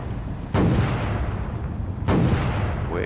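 Two booming VLS missile launches from a destroyer in a naval combat video game, each a sharp blast followed by a fading roar, spaced about a second and a half apart.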